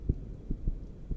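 Four low, soft thumps of a heartbeat pulse in quick succession, muffled and close, in The Joy Of Creation: Story Mode.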